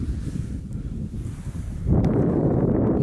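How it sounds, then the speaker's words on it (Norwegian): Wind buffets the microphone at a mountain tent site in low, rumbling gusts that grow noticeably stronger and louder partway through. "Det ble litt vind her for det."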